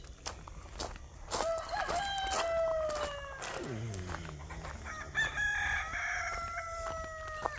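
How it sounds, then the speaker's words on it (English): On a homestead at early morning, several chickens cluck, with roosters crowing in long rising calls in the middle and later, fairly close, over a light background. "Most of these chickens ain't even out yet."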